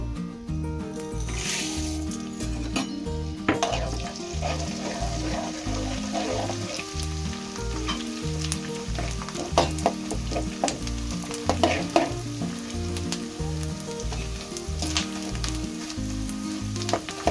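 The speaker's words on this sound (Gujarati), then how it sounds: "એટલે હવે આપણે ગુંદા તળી લેશું।" Loud, continuous sizzling of edible gum frying in hot ghee, bubbling steadily with occasional crackles and stirring scrapes throughout.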